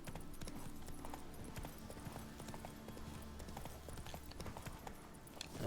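Hooves of the horse Roach gallop in The Witcher 3 as a quick, steady clip-clop rhythm that carries on throughout at moderate volume.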